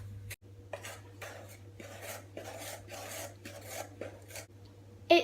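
A spoon scrapes and rasps around a bowl while flour and caster sugar are mixed together, giving repeated rhythmic gritty strokes at close range with a faint steady hum behind and no talk.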